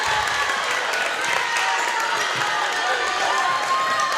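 A high school girls' basketball crowd in a gym roars steadily with cheering and scattered clapping, a continuous wash of noise throughout.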